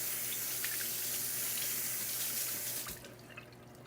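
Water runs steadily from a kitchen tap as vegetables are rinsed under it, a constant close splashing hiss that tapers off near the end.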